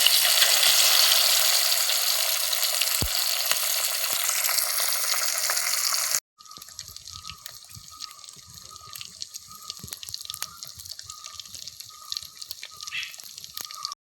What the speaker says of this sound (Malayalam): മീൻ വെളിച്ചെണ്ണയിലോട്ട് ഇടുമ്പോൾ ഉള്ള ഒരു ശബ്ദം കേൾക്കാൻ ഒരു പ്രത്യേക രസമാണല്ലേ